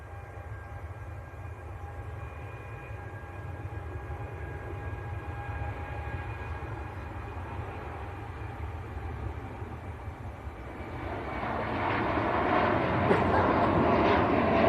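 Norse airliner, a heavy jet running light and empty, beginning its takeoff roll at Manchester Airport, a steady engine drone with faint tonal whines that swells louder toward the end as it accelerates.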